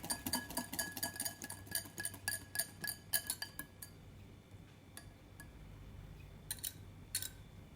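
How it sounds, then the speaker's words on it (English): Whisking cake batter in a bowl as oil is added for a lemon cake: quick, bright metallic clinks and ticks of the whisk against the bowl in a steady run for about four seconds, then a few scattered taps after a pause. "You add oil gradually as you whisk."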